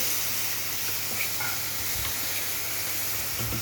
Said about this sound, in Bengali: পেঁয়াজটা মোটামুটি ভাজা হয়ে এসছে, একটু লাল লাল হয়ে গেছে।